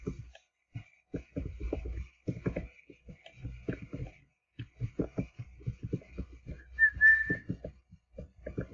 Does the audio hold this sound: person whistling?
yes